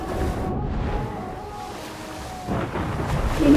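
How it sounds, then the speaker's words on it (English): Rolling thunder from a thunderstorm rumbles low and steady, swelling again toward the end, with a faint wash of rain or wind beneath it and no voices. "There was a storm"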